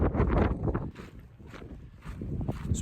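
Strong wind on Kearsarge Pass, a mountain pass on the Pacific Crest Trail, blasts the microphone in heavy, loud low-pitched buffeting gusts that dip briefly in the middle before surging again.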